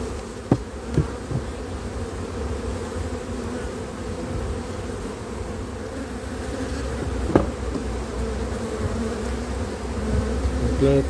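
Honeybees buzz around a hive during beekeeping work, a dense, steady drone of many wings close by, with a few faint knocks and taps underneath and no speech.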